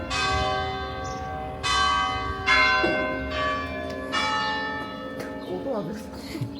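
Church bells in a flower-filled medieval village, Saint-Côme-d'Olt in southwest France, ring out with several strong strikes and long ringing overtones, close and clear, with some quiet talk beneath.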